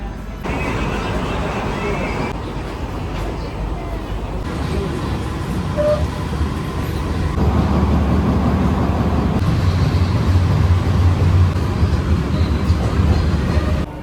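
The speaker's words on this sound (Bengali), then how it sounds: "এই মাত্র কৃষ্ণনগর স্টেশন থেকে আমাদের এসি লোকাল ট্রেন ছাড়লো শিয়ালদার উদ্দেশ্যে" An AC local train pulling out of Krishnanagar station, heard from inside as a steady rumble and rolling hum that grows heavier as it gathers speed, with an announcement-like voice briefly over it.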